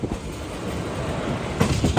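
An Alappuzha to Chennai Central express train pulls into Palakkad Junction station with a steady low rumble of rolling wagons, and a burst of sharper wheel clatter rises near the end.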